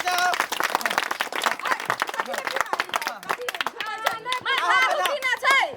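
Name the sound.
guests clapping hands at a wedding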